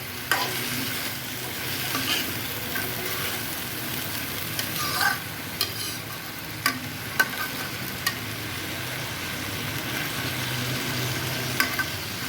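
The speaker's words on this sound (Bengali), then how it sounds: "পুঁইশাকটা ভাজা করবো তেলের করে, শুধু মরিচ ভাজা দিয়ে।" Malabar spinach frying in oil with chillies, a steady close sizzle punctuated by scraping and clinking as the greens are stirred in the pan.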